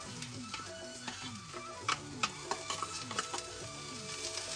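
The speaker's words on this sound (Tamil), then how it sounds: "இந்த மீன்ல இருக்கிற தண்ணி தன்மை போகும் வரைக்கும் நல்லா வறுத்து எடுக்க போறேன்" Agathi leaves, grated coconut and tinned fish fry and sizzle in a pan, with steady crackling and repeated scraping stirs in an even rhythm, close up and alone.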